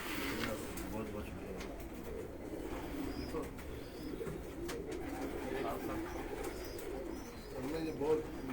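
Pigeons coo in soft, repeated low calls from a rooftop loft amid steady background noise, with occasional faint chirps overhead.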